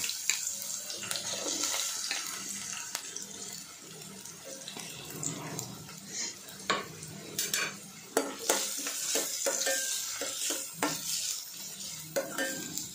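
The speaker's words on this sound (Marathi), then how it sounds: "कांदा व्यवस्थित परतवून घ्यायचा तेलावर" Chopped onion fries in hot oil for a methi bhaji, a soft sizzle under close scraping stirs from a spoon, with occasional clinks against the pan.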